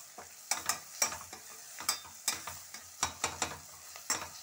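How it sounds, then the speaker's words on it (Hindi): Onion frying with garlic and ginger in a pan sizzles softly, with a spoon stirring in regular sharp scrapes and taps, close and fairly quiet, with no one talking. "अब आधा ही हम इसको लहसुन अदरक के साथ भुनेंगे"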